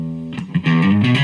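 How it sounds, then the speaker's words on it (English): An electric guitar played through a drive patch on a Boss BR-80 digital recorder gives a short, sustained distorted tone with a few note changes, close and fairly loud, with no talking. "so we've got a bit more distortion there"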